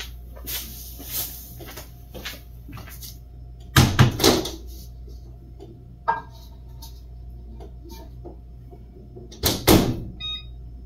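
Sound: microwave oven running to heat ramen

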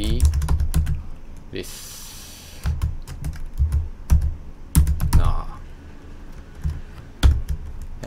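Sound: typing Java code on a computer keyboard

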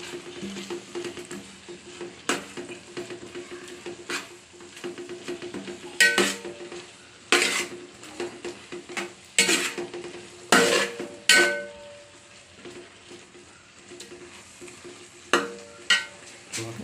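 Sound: stirring ground coconut paste in a cooking pan

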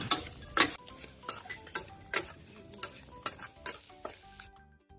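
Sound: stir-frying crispy pork with chili and seasoning in a pan

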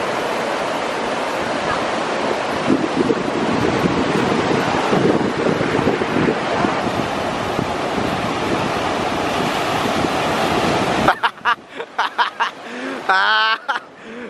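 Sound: ocean surf waves at Torrey Pines beach

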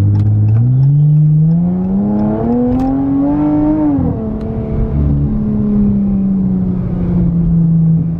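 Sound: BMW M3 car engine revving

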